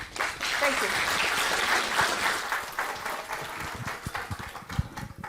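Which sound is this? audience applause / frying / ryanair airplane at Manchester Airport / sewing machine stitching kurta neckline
audience applause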